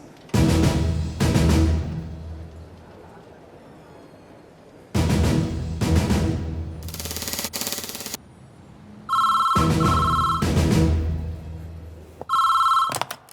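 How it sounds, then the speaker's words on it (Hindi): Telephone ringtone trills in repeated bursts, loud and close, with pauses between rings and no talk over it. "उन्हें जल्दी से कॉल कीजिए मैडम प्लीज़।"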